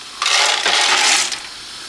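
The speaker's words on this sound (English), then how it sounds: "I'm going to add in the pasta." A short burst of dry gigli pasta pouring and rattling into a pot of boiling water, a steady hissing clatter lasting about a second before trailing off.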